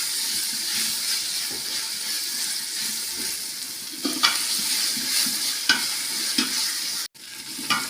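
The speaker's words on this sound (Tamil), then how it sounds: "இஞ்சி பூண்டோட பச்சை வாசனை போகிற வரைக்கும் வதக்கி விட்டுக்கோங்க" Ginger garlic paste sautéing in hot oil in a pan for mutton biryani, a steady close sizzle and hiss with occasional scraping stirs and clinks of a spoon against the pan, no talking.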